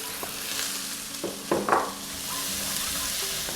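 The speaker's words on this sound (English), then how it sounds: "I'm going to go in with my onions and my garlic. Should get really fragrant here." Chopped onions and garlic drop into hot oil in a pan for fried rice, giving a steady sizzle with a few stirring scrapes and bursts of spattering, close and without voices.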